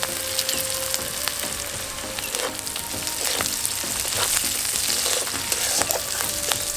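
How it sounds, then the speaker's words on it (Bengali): Chopped onion, capsicum and green chilli stir-frying in a pan, a steady dense sizzle broken by frequent small clicks and scrapes of stirring, with no voices. "পেঁয়াজ ক্যাপসিকাম খুব ভালোভাবে নেড়ে নেওয়ার পর এর মধ্যে দিয়ে দেব কাঁচা লঙ্কা কুচি"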